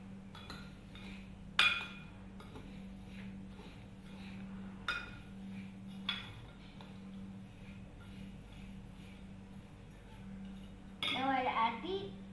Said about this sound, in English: Now I mix everything together.